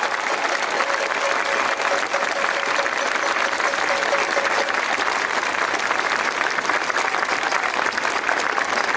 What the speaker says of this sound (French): vous pouvez les applaudir fortement